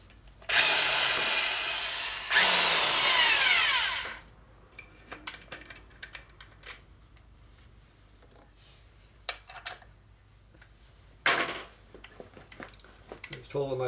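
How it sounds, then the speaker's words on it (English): A half-inch electric drill motor bores through a bushing in a 2001 Indian Scout 88ci big-bore S&S engine. It gives two loud, close bursts of drilling, then a shorter one later, with clanks and handling noises between them. "Use our 1/2-inch drill motor."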